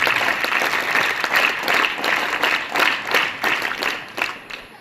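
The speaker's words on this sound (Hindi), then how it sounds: "हम उनके लिए भी एक बार जोरदार तालियां बजाएं।" Loud, enthusiastic applause from an audience at a Constitution Day gathering, dense clapping that swells and dips in waves without talk.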